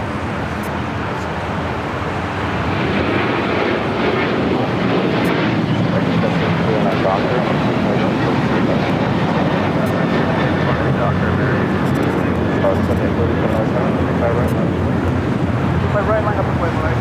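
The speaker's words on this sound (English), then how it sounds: "7837, it's an A320. The flight coming in from JFK," An Airbus A320 arriving from JFK and landing on runway 24 right at LAX, a broad, loud jet roar that swells after a couple of seconds and then holds steady, with wind buffeting and a voice talking over it.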